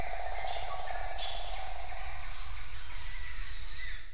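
Insects in the Sundarbans mangrove forest of Bangladesh keep up a dense, continuous high-pitched chirring, loud and unbroken throughout, with no voices.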